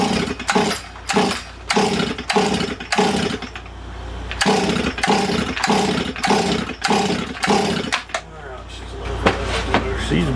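A Stihl MS440 chainsaw is pulled over repeatedly for a compression test, giving a rhythmic series of loud, close rasping starter-cord pulls and engine churns, with a short pause midway.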